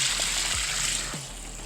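Soft, steady rush of water pouring from a soft-flow garden hose nozzle onto garden avocado plants, a continuous broadband spray with no pauses, close and moderately loud.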